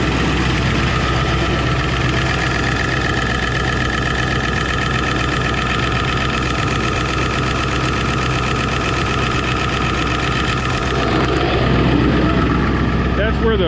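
A Ford 7.3 Powerstroke diesel engine idles loudly and steadily up close with a dense, constant rumble that hardly changes for the whole stretch. Near the end it gets a little louder and rougher, as if a close mic shifted toward the engine.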